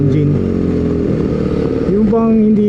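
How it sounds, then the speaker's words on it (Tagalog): A BMW R nineT motorcycle's boxer twin engine running close by, a loud throbbing idle that rises in a brief rev toward the end. "Saka gusto ko rin yung tunog ng boxer twin engine"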